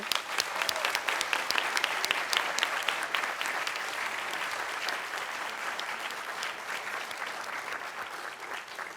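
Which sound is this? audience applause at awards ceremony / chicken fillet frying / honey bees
audience applause at awards ceremony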